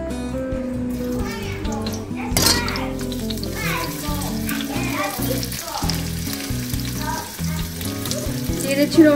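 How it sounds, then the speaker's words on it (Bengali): Chopped onion frying in hot oil for spicy pasta gives a close, continuous sizzle under someone talking and a voice, with a louder burst when the onion goes in. "আমি এখন তেল দিয়ে দিচ্ছি। আমি এখন দিয়ে দিব প্রথমে পেঁয়াজ কুচি।"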